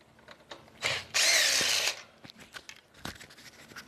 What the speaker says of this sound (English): make sure my drill is in reverse